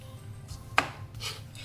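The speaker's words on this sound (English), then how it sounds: "So when we are dicing the all the vegetable" Vegetables are diced on a chopping board with a few quiet knife strikes, one crisp clear chop standing out among softer taps, close and alone.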